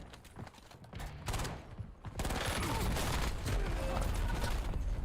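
Call of Duty gunfire from a Renetti pistol in the MW2 loadout, with a few scattered shots first, then a dense, loud burst of rapid overlapping gunfire filling the rest, with no voices over it.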